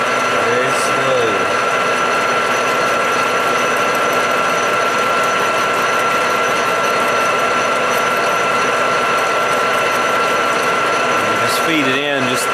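A metal lathe machines a bronze thrust washer for a 1980 Can-Am MX-6 125 restoration, giving a loud, steady mechanical whir and ratcheting drone with a sustained tone throughout, with faint voice-like sweeps near the start and end.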